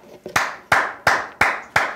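Studio hosts of a Korean football talk show clap their hands: six sharp, loud, close claps in an uneven rhythm, each with a short ringing decay, and no talking.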